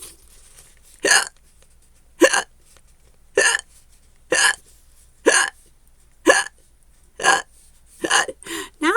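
A voice imitates hiccups, eight or nine sharp, loud hiccup sounds evenly spaced about one second apart with silence between, no talk over them.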